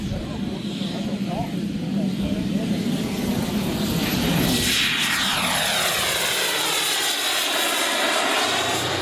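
Model warbird aircraft engine running at a warbird meet in Oberhausen, a steady, loud, continuous drone that swells as the plane passes, its pitch sweeping downward through a Doppler shift, with a voice talking over it.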